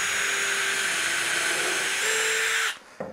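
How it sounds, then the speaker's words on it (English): A power drill with a keyless chuck runs at a steady high whine while pre-drilling a hole, with a slight pitch shift near the end before it stops abruptly, followed by a brief click. "so I can pre-drill a hole."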